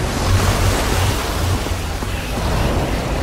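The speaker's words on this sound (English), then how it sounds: "I don't know how much water this thing is going to kick out" Water rushes out in the Minecraft Story Mode video game, a loud, steady broadband roar like surging surf that continues without a break and without speech.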